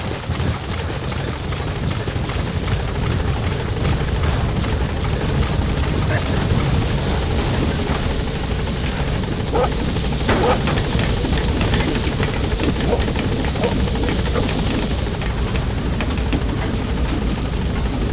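The Pequot helicopter in Metal Gear Solid V the Phantom Pain touches down at a landing zone, its rotor chop loud, steady and close throughout with a dense rushing whine, and a voice speaks over it.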